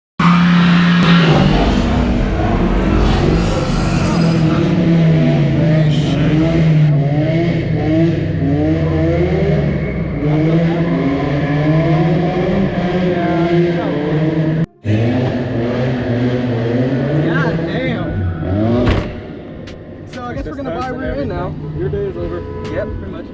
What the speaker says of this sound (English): you had your first drift accident